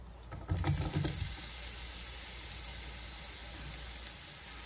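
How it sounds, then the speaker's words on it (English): Chopped onions hit hot oil for Guyanese metemgee with a sudden loud sizzle, which settles into a steady, close frying hiss that lasts to the end. "Okay, the oil is nice and hot. This is where I'll add my onions in."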